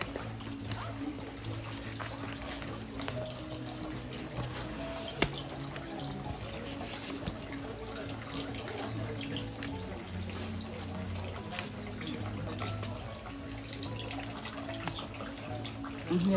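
At a Japanese shrine, water pours and trickles steadily and close by, with a soft constant splash and a low hum under it.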